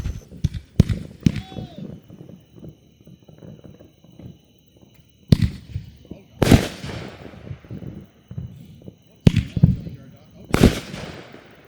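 Backyard fireworks from a Junkyard Dog cake by No Name, firing a handful of sharp, loud bursts with crackling tails at irregular gaps, one early whistle, and quieter spells of outdoor murmur between shots.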